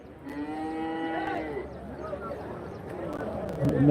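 Cattle at a livestock market near Hosur, where native breed cows are sold, low a few times with long drawn-out tonal moos over a busy outdoor crowd, with people talking throughout.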